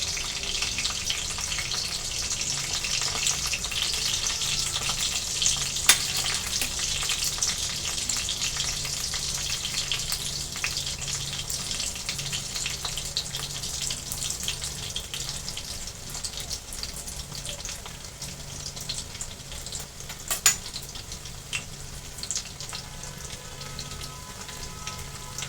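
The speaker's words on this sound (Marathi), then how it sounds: "व्यवस्थित लसूण परतून घेणार आहे तेलामध्ये" Crushed garlic sautéing in oil for a fenugreek leaf (methi) vegetable dish gives a steady, even frying sizzle that runs throughout, with a couple of faint clicks and no voices.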